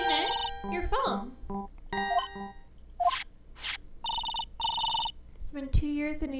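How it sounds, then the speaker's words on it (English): A phone ringtone from the video game Ace Attorney Trials and Tribulations chimes in bright repeating melodic bursts, interleaved with game voice sounds and blips across several seconds. "It's been 2 years and he'd never changed his ringtone."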